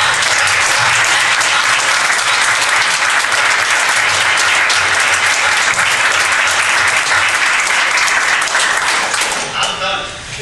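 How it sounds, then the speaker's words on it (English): Sustained applause from an audience at a community college board of trustees meeting, loud and steady for about ten seconds before thinning out at the end. "Are you guys applauding"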